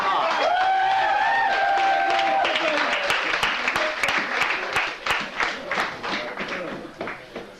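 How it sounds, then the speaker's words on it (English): Audience applause fills a graduation banquet hall, steady clapping with some cheering over a sustained crowd wash, briefly overlapped at the start by a voice, then gradually thinning toward the end. "why don't we give a big round of applause?"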